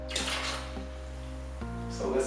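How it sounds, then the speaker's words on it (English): Concentrated sugary concentrate from a cider brew kit is poured into a fermenter, a brief liquid splashing and trickling with a faint voice or hum behind it. "just gonna go ahead and pour it right in"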